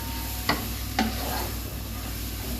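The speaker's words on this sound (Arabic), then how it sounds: "هفضل بقى قلت نقلب اللحمه" Meat sizzles steadily in a pan as a spoon stirs it, with two sharp scraping knocks against the pan and no voices.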